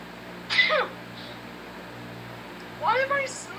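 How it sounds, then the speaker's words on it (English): A man sneezes twice, each a short sharp burst close to the microphone, the first near the start and the second about two and a half seconds later, with quiet room noise between them. "Why am I sneezing?"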